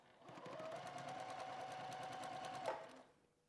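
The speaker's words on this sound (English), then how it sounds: "I'm just going to feed it through the machine while it's attached." A sewing machine stitches a quilt in a home studio, its steady motor hum and rapid needle clatter running for about three seconds before slowing to a stop, close and clear with no talking.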